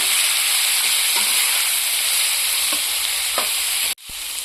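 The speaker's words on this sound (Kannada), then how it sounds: "ಈ ಮಿಕ್ಸ್ ಮಾಡಿದಂತ ಈರುಳ್ಳಿ ಕ್ಯಾಪ್ಸಿಕಮ್ ಅನ್ನ ಇದಕ್ಕೆ ಸೇರಿಸ್ಕೊಳ್ಳೋಣ ಚೆನ್ನಾಗಿ ಫ್ರೈ ಮಾಡ್ಕೊಳ್ಳೋಣ" Mixed onion and capsicum frying in a pan with a loud, steady hiss-like sizzle and a few light stirring taps, ending with an abrupt clatter and a brief drop before the sizzle resumes; no voices.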